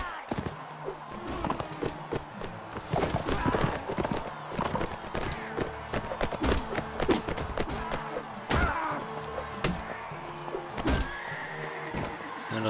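Rhythmic hoofbeats of a horse in a Mount and Blade Warband tournament, clip-clopping unevenly alongside clanks and thuds of game action over about thirteen seconds, with a voice talking over parts of it.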